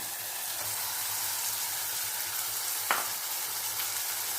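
Taro and tomato frying in oil in a pan, a steady broad sizzle that stays even throughout, with one brief clink of a utensil partway through.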